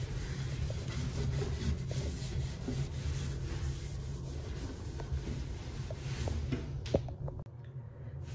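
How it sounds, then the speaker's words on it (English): A cloth rubs steadily across a sanded wooden bathroom cabinet to clear away the dust, making a continuous close, soft scrubbing with a few light knocks near the end. "I'm just gonna wipe it down to get all of that dust from sanding off"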